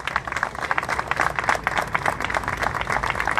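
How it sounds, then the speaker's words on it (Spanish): Steady clapping from an audience at a ceremony honouring a municipal urban guard officer, dense and continuous with distinct hand claps across the whole stretch, moderately close with no voice over it. "Fuerte el aplauso para él."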